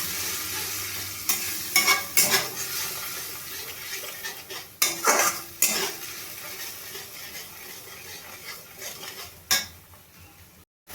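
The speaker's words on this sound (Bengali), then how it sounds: "দিয়ে আবার একটু ভালোভাবে কষিয়ে নেব।" A ginger-based spice paste for an omelette curry sautés in a pan as a spoon stirs and scrapes it. Repeated metallic scrapes and clinks come in bursts over a light sizzle.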